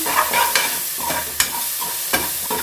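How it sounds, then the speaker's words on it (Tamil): Masala for a rice and dal dish is stirred and fried in a pan, with a steady sizzle beneath sharp scraping clicks of the spoon at irregular intervals, close by. "இப்போ இதையும் நல்லா மிக்ஸ் பண்ணி விட்டுடலாம்"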